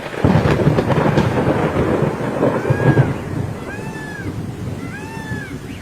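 Sudden steady heavy rain roars close by with a rumble underneath, while a cat's plaintive meows rise and fall over it several times toward the end.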